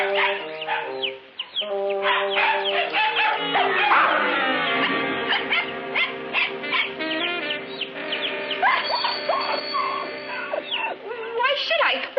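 A dog barks repeatedly over busy domestic chatter and clucking chickens, the barks sharp and close amid overlapping voices.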